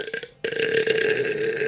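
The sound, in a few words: burp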